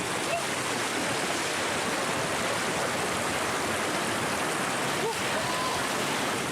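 A lahar flood from Mount Semeru rushing down the Regoyo river at Jugosari, Lumajang, a loud, continuous broadband roar of churning water and debris with no letup.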